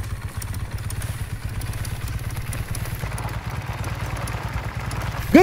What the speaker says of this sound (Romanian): băgăm motocicleta